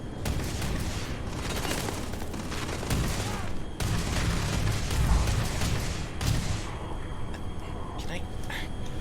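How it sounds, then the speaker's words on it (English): A Starfield companion firing a weapon in sustained volleys of gunshots, loud and near, with heavy booms mixed in and a voice talking over much of it. "What in God's name are you shooting at?"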